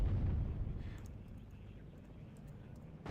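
Bombs from bombers exploding in WARNO, a deep rumbling blast that is loud at first and then fades into a low, rolling tail over a few seconds.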